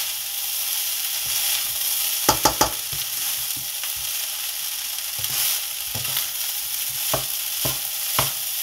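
Rice for kofta fried rice stirred and fried in a pan, a steady sizzle under repeated sharp scraping clicks of a spoon against the metal, close and moderately loud, with no talk.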